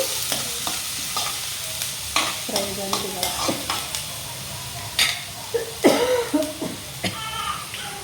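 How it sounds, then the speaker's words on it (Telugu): Onions fry in a pan with a constant close sizzle, broken by frequent stirring scrapes and clinks of a utensil against the pan, with a brief cough-like sound partway through. "సో ఇది కొద్దిసేపు ఫ్రై అవుతుంది"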